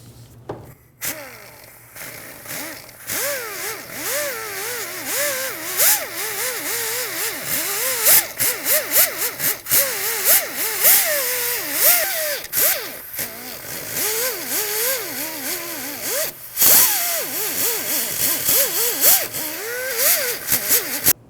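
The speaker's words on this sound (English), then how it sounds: "using a wire brush, we're also going to get into here and clean up where the wheel bearing is going to sit" Continuous scratchy scrubbing of a wire brush against the rusty wheel hub mating surface of a 2007-2011 Toyota Camry, a dense close rasp with irregular strokes lasting about twenty seconds, no talk.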